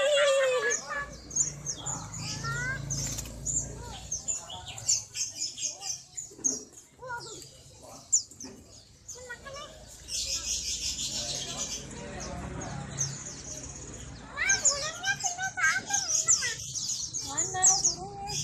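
Many small birds chirp and tweet at a bird shop, their calls scattered and fairly close, mixed with a child's and adult's voices talking throughout.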